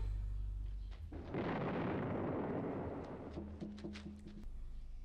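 A grenade explodes in the 1957 war film Paths of Glory, a deep rolling blast that swells for a couple of seconds before fading into quieter scattered sounds over a low background tone.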